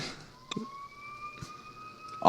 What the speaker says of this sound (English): Is that siren in your background?